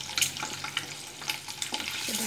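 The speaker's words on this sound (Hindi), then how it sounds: "देखिए एग कैसे फ्राई हो रहा है" Boiled eggs shallow-fry in oil with turmeric and chili, giving a close crackling sizzle with irregular spits and pops and soft scraping stirs, moderately loud, with no talking.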